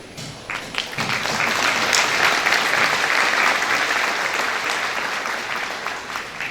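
Audience at the Sunbelt Ag Expo Southeastern Farmer of the Year award banquet applauds, the clapping swelling quickly into a dense, full round that holds steady and then tapers slightly toward the end.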